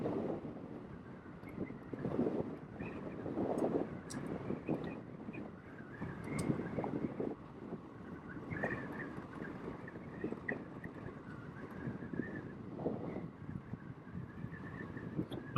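Wind buffets the microphone on a motorcycle ride through Patagonia, a continuous low rumbling roar that swells and fades in uneven gusts, with no talking.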